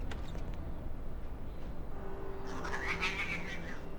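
Cats meow and caterwaul in the Hitman: Codename 47 game, a drawn-out wavering yowl rising late over a steady droning game ambience, with fainter cries earlier.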